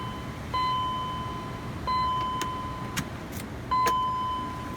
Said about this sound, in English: Get the key out of the ignition.